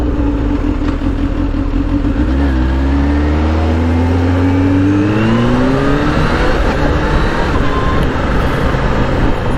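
Kawasaki Z H2 supercharged motorcycle ridden around town in sport mode, engine note climbing through gears with quick shifts, loud and close under heavy wind rush.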